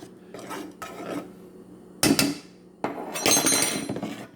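A metal pot set back down on a stovetop to boil a bitter herbal detox brew, heard as a few separate clanks and scrapes of cookware, close and fairly loud, with no talking.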